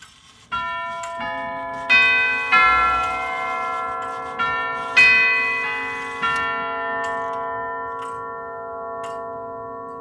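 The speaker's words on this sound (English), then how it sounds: "so it can chime with the Westminster chimes, which is what I have it set for right now" A mechanical clock chimes the Westminster melody, its bright bell-like tones striking one after another in a slow, ringing sequence, each note decaying and overlapping the next, close and alone without any voices.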